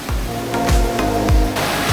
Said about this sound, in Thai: น้ำตกผางามงอนเนี่ยคือน้ำตกเล็กๆที่เราเห็นตรงนี้แหละครับ